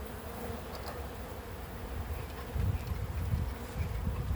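A honeybee hive buzzes steadily during a late-winter check, a dense continuous drone with no voices that swells louder for the last couple of seconds.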